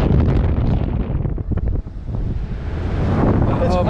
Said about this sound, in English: This is very windy.